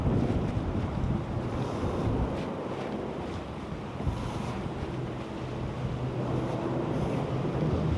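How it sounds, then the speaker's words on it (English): Waves rushing up a beach on an incoming tide, a steady broadband roar of surf mixed with wind buffeting the microphone, continuous and fairly loud throughout with no talk. "Tides is ripping in now."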